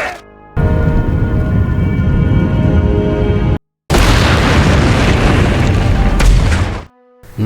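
A helicopter explodes on screen in the 2014 action film Skin Trade, a loud sustained roaring blast with rumbling debris, broken by a brief silence before a second long burning roar that fades out.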